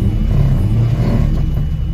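An American V8 fitted in a TVR Tuscan idles close by with a deep, steady, slightly uneven rumble that holds constant and stands alone.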